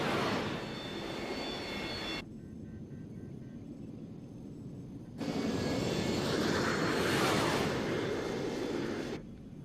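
Loud roaring engines of two aircraft in a TV series, steady and close, that drop to a lower rumble and then surge back with a broad whooshing roar.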